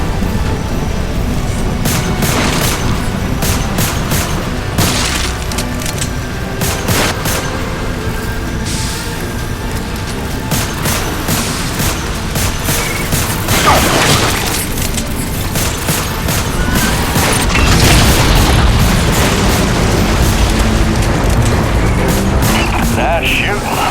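Gunfire and explosions in the Lost Planet 3 video game, dense rapid shooting and booming blasts running loud and continuous throughout, with voices talking over the action.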